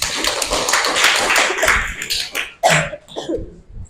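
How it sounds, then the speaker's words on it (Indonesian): A school class claps for a student group, a burst of scattered hand claps that thins out and ends in a few separate claps and a cough. "tepuk tangan untuk kelompok 1"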